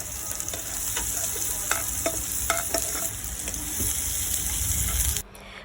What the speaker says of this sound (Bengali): এখন আমি এটাকে বাগার দিয়ে নিব।